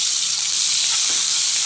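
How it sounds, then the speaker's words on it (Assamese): Onion, garlic and chillies fry on a low flame, giving a loud, steady hiss with no clear breaks and no voices. "এইখিনি ল' ফ্লেমতে মই ভাজিম এতিয়া"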